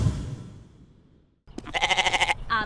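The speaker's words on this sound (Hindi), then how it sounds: "आपका बकरा बहुत प्यारा है।" A cartoon goat gives a quick series of rhythmic bleats after a short pause, loud and close, with a faint earlier murmur of voices and a short final call.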